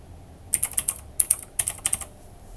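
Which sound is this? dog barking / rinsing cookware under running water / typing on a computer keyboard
typing on a computer keyboard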